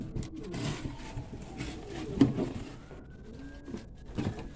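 Pigeons coo softly in a loft, low throaty murmurs repeating irregularly close by amid scattered shuffling and fluttering noises.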